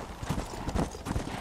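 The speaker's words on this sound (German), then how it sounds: "So, ein paar untote Pferde" Undead horses' hooves clip-clop in a steady, rhythmic patter in the video game Red Dead Redemption: Undead Nightmare, with several moderately loud hoof strikes over a low background and no talk.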